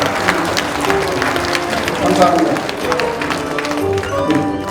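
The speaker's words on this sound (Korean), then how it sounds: "우리 큰 박수로" Audience applause at a Jeju social welfare vision conference, a dense steady patter of clapping from a crowd filling the room, with a voice speaking briefly over it.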